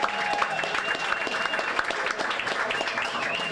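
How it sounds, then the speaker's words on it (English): An audience at a Baltimore Ravens fan talk event applauds team owner Steve Bisciotti, a thick, unbroken wash of clapping hands held at a steady, fairly loud level for several seconds. "Give a round of applause."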